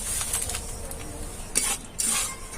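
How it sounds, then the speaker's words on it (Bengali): Semolina dry-roasting in a pan while being stirred makes a soft, steady scraping hiss, with a few sharper scrapes and clinks of the spoon against the pan. No voices. "হালকা করে ভেজে নেব সুজিটাকে"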